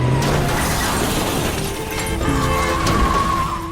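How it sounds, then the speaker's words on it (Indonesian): A chaotic street crash between a minibus and a passing bus, with breaking, shattering impacts and scraping over continuous loud traffic noise, a tire-like squeal rising near the end. "Hiruk pikuk terjadi ketika tabrakan antara minibus dan bus yang sedang melintas."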